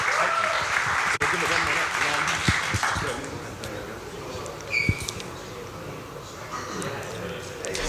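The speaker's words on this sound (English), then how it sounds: "Give them a round of applause." A conference audience claps steadily from start to finish with dense, even applause. A few louder claps stand out early, and the clapping fades a little toward the end.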